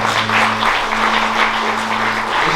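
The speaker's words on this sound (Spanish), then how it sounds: "aplauso." A church congregation claps loudly and continuously, a dense, even patter of many hands over a low, steady electrical hum, with no one talking.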